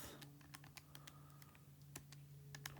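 Quick, uneven taps on small calculator or keypad buttons while numbers are entered for a math problem, close and fairly quiet, alone with no talk.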